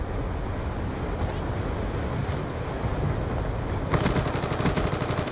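Rapid automatic gunfire in the video game Call of Duty: Black Ops 2, a dense continuous rattle of shots that grows louder and sharper near the end, with no talking.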